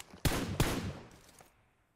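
Two quick gunshot bursts from a PUBG Mobile match crack close together and then fade into a short decaying echo, with no talking.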